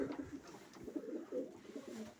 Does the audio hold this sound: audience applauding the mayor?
no